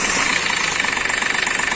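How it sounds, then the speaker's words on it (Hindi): Idling Hyundai Xcent engine with a fuel rail pressure sensor fault, knocking in a rapid, even ticking rhythm over the running motor, loud and close. "देख सकते हैं ये कट कट कट कट आवाज़ है, बहुत डेंजर नॉइस है इसका।"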